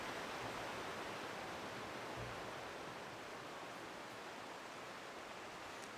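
Steady, loud rushing of a waterfall in a modded Skyrim game, a dense broadband roar that holds constant throughout with no voices.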